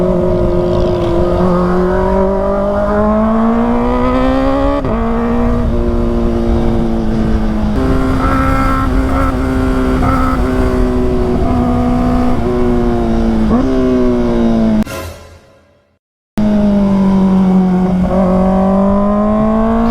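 Engine and road noise from riding a motorcycle through traffic on a hot commute home, a steady loud drone with rising and falling revs throughout, cutting out briefly near the end before resuming.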